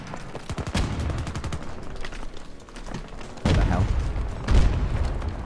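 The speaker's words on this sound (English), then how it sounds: "Friendly shooting them." Battlefield 2042 battle gunfire: rapid automatic bursts crackle close by, then heavier booming shots punch through, with voices faintly mixed into the chaotic firefight.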